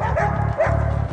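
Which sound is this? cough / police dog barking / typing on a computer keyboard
police dog barking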